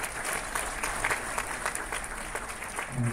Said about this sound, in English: Please, one huge round of applause to all the committee members and for your support